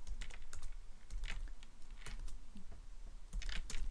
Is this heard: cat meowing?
no